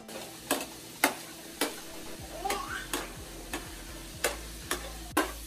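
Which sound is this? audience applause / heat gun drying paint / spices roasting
spices roasting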